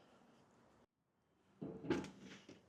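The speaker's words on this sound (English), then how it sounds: "as we come through the door here" An RV entry door on a 2018 Prime Time Avenger 26BK travel trailer opens, then after a short silence comes a close, solid clunk and rattle of it shutting, with no talking.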